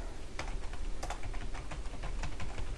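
Typing on a computer keyboard while writing C++ code, a quick run of light, close key clicks in an uneven rhythm with a few louder taps, alone and fairly quiet.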